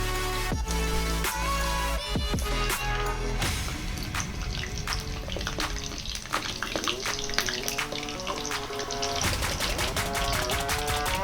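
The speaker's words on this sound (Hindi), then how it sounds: "इसको डीप फ्राई करेंगे।" Chicken nuggets deep frying in hot oil, giving a continuous loud sizzle and bubbling under music-like tonal background sounds.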